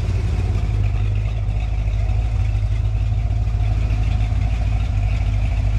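A 350 engine in a truck idles after break-in of a new hydraulic flat tappet camshaft, with a steady, close, low rumble and only a mild lope, running continuously with no voices.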